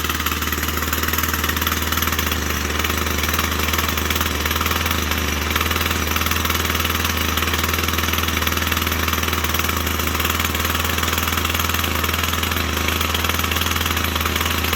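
A Husqvarna 122C string trimmer's small two-stroke engine idles steadily while warming up, a constant buzzing drone with a rough rattling edge that holds at an even level throughout with no talking.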